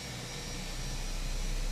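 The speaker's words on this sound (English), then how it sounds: "The sounds of this airplane are ridiculous." A steady, loud engine drone comes from a simulated Rowsfire A105 airliner in Microsoft Flight Simulator, taxiing at Charlotte airport: a broad, rushing hum with deep rumble, constant and unbroken, with no voices.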